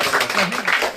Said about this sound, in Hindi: और जोरदार तालियां